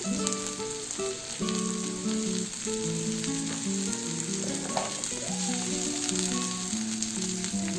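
Mixed yellow, red and green bell pepper pieces sizzling in a pan, a loud, continuous close-up frying hiss with occasional stirring, heard under background music.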